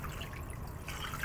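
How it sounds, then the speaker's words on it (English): Water pours into a stock pot over beef bones as a continuous, close, splashing rush of liquid with no speech. "So pour the water in"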